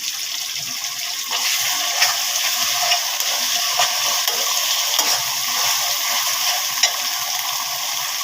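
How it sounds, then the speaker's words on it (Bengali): Spices such as cumin paste and garlic sizzle and are stirred in a pan for liver bhuna, a steady loud frying hiss with scraping spoon strokes throughout, no speech. "এখন মশলাগুলোকে ভালোভাবে কষাতে হবে।"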